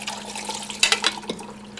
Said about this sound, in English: Strain the water off and set those apples aside.